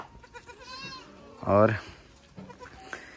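Young goat kids on a hill farm bleat in short wavering cries, one loud and close, with a voice briefly speaking nearby.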